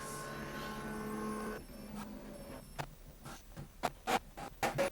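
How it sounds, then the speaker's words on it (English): Epson WF-2930 printer finishing a double-sided copy: a steady mechanical whir that stops partway, followed by a series of sharp scraping and clicking paper-feed sounds, close and fairly quiet. "Our copy has now been printed on both sides of the paper."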